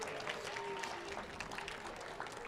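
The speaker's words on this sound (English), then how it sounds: "Give him a big round of applause." A crowd at an election night watch party applauds a state house speaker, with steady clapping heard from some distance and a faint murmur of voices mixed in.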